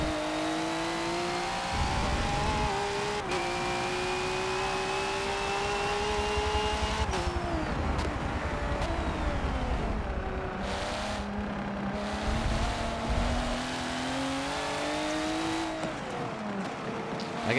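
A race car engine in Forza Motorsport 7, driven with a steering wheel controller, revs and shifts through gears continuously, its tone climbing and dropping with faint tyre noise and no talking.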